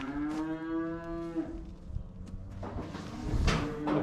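A weaned calf in a farm shed gives one long, loud, close moo, followed by scuffling and fainter lowing from other calves.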